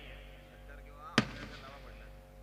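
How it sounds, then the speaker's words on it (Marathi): A single sharp firecracker bang goes off at an outdoor cricket premier league final, one brief burst that rises over a low steady background hum. "फटाके लावणं आता थांबवलं पाहिजे."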